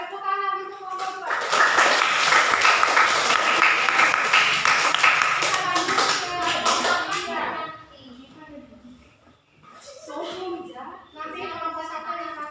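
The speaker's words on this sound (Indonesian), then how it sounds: "tepuk tangan untuk kelompok dua" Classroom audience applauding a student group, a burst of many hands clapping for several seconds that fades out, followed by children talking.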